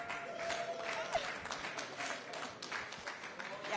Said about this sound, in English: Please applaud as we recognize Mr.